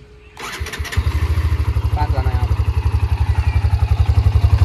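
Hero Xtreme 125R motorcycle engine starts and settles into a close, steady idle with a rapid, even exhaust thump, while someone talks nearby.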